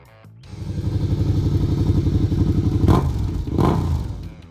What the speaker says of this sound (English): Number 11. The Suzuki SV650.